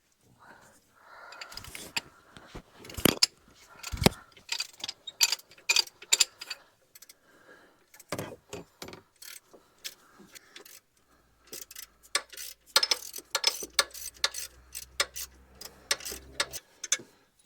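A wrench works the alternator pivot bolt out on a 2006 Lexus, giving irregular close metallic clicks, ratcheting and clanks in scattered bursts with short quiet gaps.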